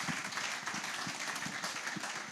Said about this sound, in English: So a round of applause to our chairman.